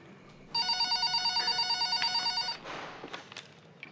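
A telephone rings out while a call is placed to a house, with about two seconds of rapid, even, bright electronic ring pulses that then stop, leaving quiet room noise.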